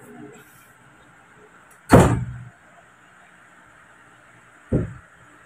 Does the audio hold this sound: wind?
no